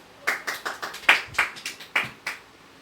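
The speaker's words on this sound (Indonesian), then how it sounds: "kita beri aplaus" Scattered classroom applause after a school presentation on fungi, a sparse handful of claps in loose uneven rhythm, fairly close and not very loud, with no talking over it.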